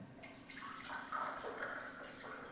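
Water is poured into kitchen salt (sodium chloride) in a container, a soft continuous trickle and splash lasting a couple of seconds, quiet and close.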